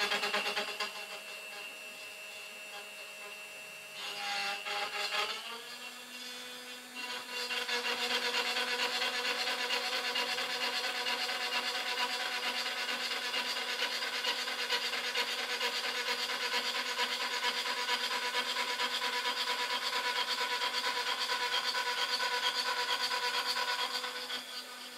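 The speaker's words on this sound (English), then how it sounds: "I'm just going to start by doing a roughing cut, which is going to take all these corners off and bring it down almost to this level" A CNC router with a rotary axis makes a roughing cut through a wooden workpiece, knocking the corners off. The grinding, rasping cut runs steadily and loudly for most of the clip, with a brief change in tone near the start.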